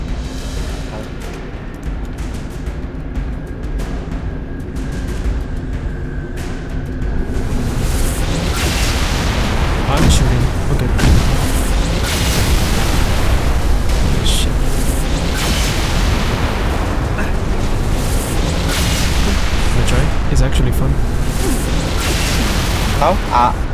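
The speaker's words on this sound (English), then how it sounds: "I like watching the explosions." Explosions and artillery fire in the Halo: Reach video game, on the Pillar of Autumn mission with a cruiser moving into position, rumble loudly and continuously with dense booms and bursts, under game dialogue.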